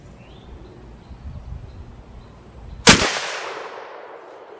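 A single sharp rifle shot from a .300 Winchester Magnum firing a sabot round cracks out near the three-second mark, followed by a long rolling echo that fades over open ground after a quiet lead-in.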